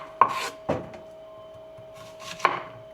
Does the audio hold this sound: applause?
no